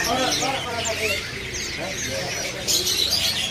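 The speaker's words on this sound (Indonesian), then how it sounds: "Di atas ini juga ada burung jala kebo gacoran." A jalak kebo starling, a prolific singer, chirps and whistles at a bird seller's stall while a person talks nearby, the bird calls coming through bright and clear above the voice.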